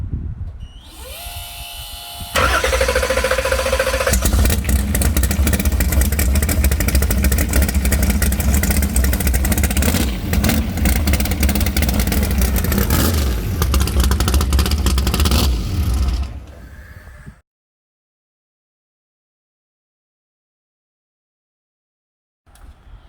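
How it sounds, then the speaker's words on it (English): Engine of a Fox body Ford Mustang drag car running in a speed shop, a loud, sustained raspy roar with throttle changes that cuts off abruptly, followed by several seconds of silence. "we're just gonna hear the setup of this Ford Mustang drag car"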